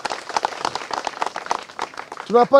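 Applause for the government of the United Republic of Tanzania at a gathering, a burst of crowd clapping under and after a man's amplified speech, rising toward the end.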